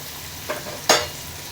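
Onions are sautéed in a pan as the base for mutton biryani, with a soft sizzle under two brief stirring scrapes, the second louder.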